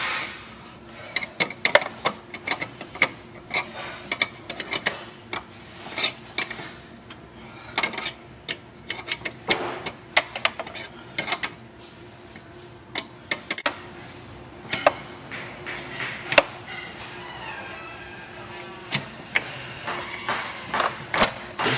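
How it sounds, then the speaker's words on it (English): A wrench works loose the brake line flare nuts on a master cylinder, giving irregular close metallic clicks and ratcheting taps in uneven bursts over a steady low background, with no talk. "you can continue on loosening the flare nuts"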